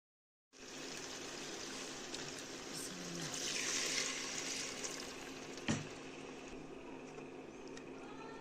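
Hot water pours into a pot of frying food on an Indian home stove, a steady rushing hiss and sizzle that swells in the middle with a brief clatter, heard alone without talk.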